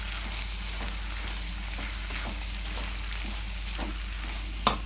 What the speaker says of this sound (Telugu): ఇప్పుడు మనం తయారు చేసుకున్న ఉడకబెట్టుకున్న పాస్తాని ఇందులో వేయాలి ఫ్రెండ్స్. వేసేసి ఇలా బాగా కలుపుకోవాలి